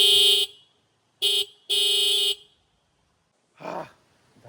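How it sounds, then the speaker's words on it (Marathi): A motorcycle horn rigged by joining the bike's old horn with a twin horn, blaring in three loud, steady blasts of differing length, followed by a brief rougher honk. "हा त्यातला जोडीचा हॉर्न आणि हा बघा बाईकवरचा जुना हॉर्न जो होता त्याला एकत्र केला"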